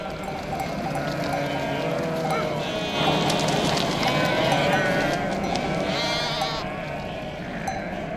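Domesticated sheep in a Middle Eastern desert setting bleat repeatedly at moderate distance, several overlapping calls rising above a steady outdoor background of flock noise, with a brief louder stretch in the middle.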